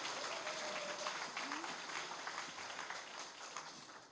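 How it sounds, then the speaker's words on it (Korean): Audience at a Korean book-launch event applauds speakers and a new party member, faint distant steady clapping with a voice briefly over it. "멋진 정말 마음을 울리는 발언 들려주신 우리 최우영 위원장님과 저희 신입당원님께 큰 박수 보내주시기 바랍니다."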